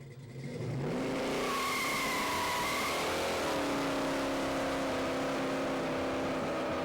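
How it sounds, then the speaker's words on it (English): An American muscle car engine revs up loudly from low, climbing in pitch then settling into a sustained deep, booming roar, close and continuous with no talking. "These cars got these deep, mellow tones that you can hear them boom"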